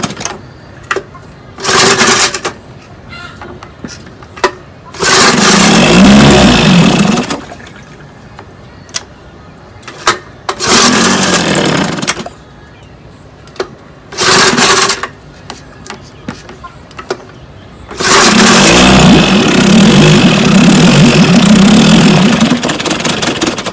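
A 1958 Johnson JW-14 3 HP outboard motor runs in several separate bursts, each a loud, steady buzzing roar lasting a few seconds with pauses between. The final stretch of running is the longest.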